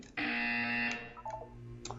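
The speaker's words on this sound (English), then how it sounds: "You will hear a buzzer." Buzzer in the Portal 2 video game, one loud sustained electronic buzz lasting under a second, then fading into quieter game tones.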